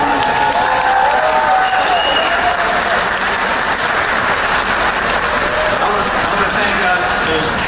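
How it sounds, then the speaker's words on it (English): Broad, continuous applause from a large crowd at a public event in Fayette County, Georgia, a dense rain-like wash of clapping with scattered cheers and voices mixed in. "Let's give them a big round of applause."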